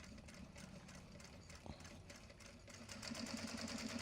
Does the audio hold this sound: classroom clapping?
no